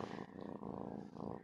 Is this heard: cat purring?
yes